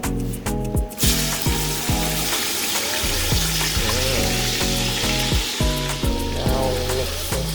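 White hibiscus (bisap, sorrel) stirred in a hot pan, a loud continuous sizzle with repeated rhythmic scraping strokes of a utensil, close up and without talk.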